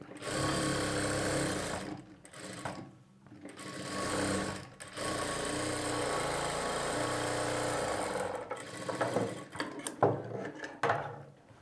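A sewing machine stitches the lining of a blouse, running in long steady whirring bursts separated by short pauses, then in choppier, stop-start stitches near the end.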